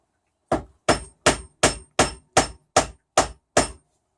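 Nine sharp, evenly spaced hammer taps as a plug is driven into a tiller, each strike crisp and close with a short decay, steady rhythm about every 0.4 seconds, no talking.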